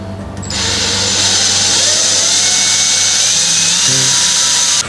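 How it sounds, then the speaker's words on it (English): A power drill whirs steadily at high speed in close range, a loud continuous whine that starts abruptly and holds for several seconds. "gonna drill into it."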